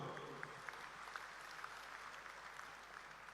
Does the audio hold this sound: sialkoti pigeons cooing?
no